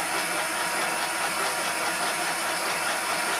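A ropewalk machine with variable settings twists individual threads, giving a steady, faint hissing mechanical whir that holds evenly throughout with no voices.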